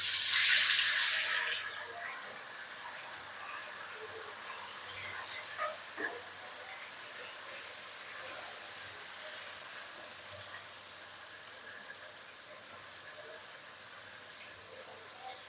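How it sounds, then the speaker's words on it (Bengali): Lote fish frying in hot oil in a kadai gives a steady, close sizzling hiss, loudest in the first second as the fish go in, then settling into an even crackle with occasional small pops. "কড়ার তেলটা গরম হয়ে গেছে, আমি এবার মাছ ছাড়বো।"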